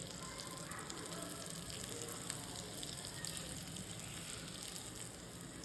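A whole block of marinated paneer sizzles in a hot pan while cooking paneer makhani. A steady, close frying hiss carries on evenly without pause.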